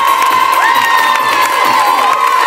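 A lively crowd, children among them, cheers and shouts loudly for young taekwondo demonstrators from a Pointe-à-Pitre club, a continuous bright roar of whoops and high voices close by, with little clapping audible.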